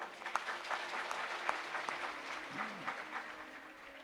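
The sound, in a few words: audience clapping at religious discourse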